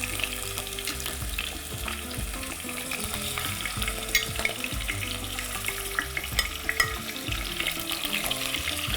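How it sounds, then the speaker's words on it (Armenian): Chicken drumsticks browning in a pot before water is added for a sweet-and-sour soup, a dense, steady sizzle and crackle with occasional stirring knocks, close and continuous without speech. "Խիտ արգանակ ստանալու համար ես միսը նախապես տապակում եմ, հետո դրան ավելացնում ջուր"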